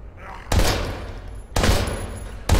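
Three loud gunshots in the survival horror video game Daymare 1998, evenly spaced about a second apart, each a sharp blast with a short decaying tail over faint background.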